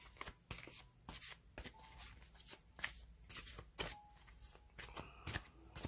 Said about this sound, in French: on va voir par rapport à ce que disent les cartes pour Didier Raoult